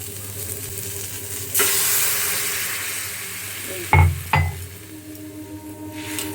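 Water poured into a hot pan of rice for a weight-loss lunch, bursting into a loud hiss that fades slowly, followed by two sharp metallic clanks against the pan, close by with no talk.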